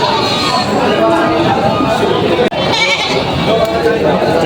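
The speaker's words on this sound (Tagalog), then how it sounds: "May binibentang mga kambing dito na mga upgraded." Goats for sale at a livestock market in Padre Garcia, Batangas bleat repeatedly amid a busy crowd, with the cries loud and close over steady background chatter and murmuring voices.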